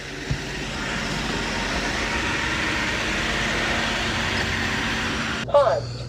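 A Dreame L10S Ultra Gen 2 robot vacuum running on the floor, a steady whirring suction hum that cuts off abruptly near the end, followed by a brief clatter.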